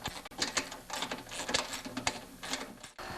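A ratchet wrench removes a 3/8 belly pan bolt on an MTD-type snowblower, giving a steady run of close, dry clicking bursts that continue for about three seconds with a short break near the end.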